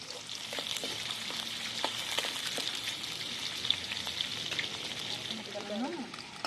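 Chopped onions sizzling in a pan of oil for noodles, a steady close crackling hiss with scattered pops and faint scraping, a brief voice-like murmur toward the end.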